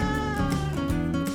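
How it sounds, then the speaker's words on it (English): A pet cat meowing loudly and insistently up close, a continuous drawn-out whining meow over little more than a second. "They meow their heads off"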